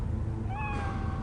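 A cat in Cyberpunk 2077 gives a single clear, drawn-out meow over a loud, steady wash of game background noise.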